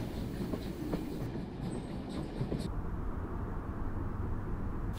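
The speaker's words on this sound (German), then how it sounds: "da hinten im Panorama noch einmal der Zug auf dem Weg ins Elbflorenz" A TT scale model railway passenger train on a main line runs past with a continuous rolling rumble and light clickety-clack of wheels on track, steady and fairly close for about five seconds.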